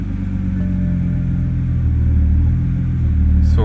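A BMW car engine idling steadily after being cranked, a continuous low rumble that stays close and loud throughout with no talk.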